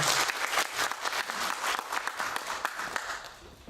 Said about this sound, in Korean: 박수 한번 드려주시죠